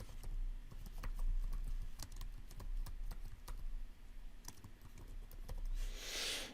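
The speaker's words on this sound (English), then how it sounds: "and then you can type the title." A computer keyboard typed on steadily, brisk quiet key clicks in an irregular run over a low room hum, close and fairly faint, ending with a brief hiss.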